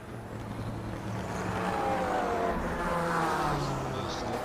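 A Porsche 956 race car engine in a video game race at Hockenheim drones steadily and moderately loud, with a rising then falling pitch as it accelerates, and faint crowd-like background noise under it.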